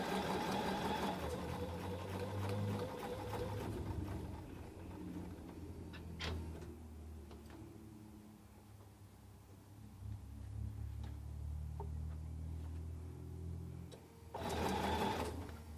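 A sewing machine stitches along aligned fabric edges, a close, steady mechanical whir with rapid needle clatter that slows midway, picks up again and finishes with a faster burst.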